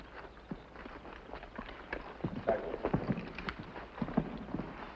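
A single horse's hooves clip-clop at a walk on a dirt street in an Old West frontier town, fairly close, with irregular thuds growing louder midway, over steady outdoor background noise.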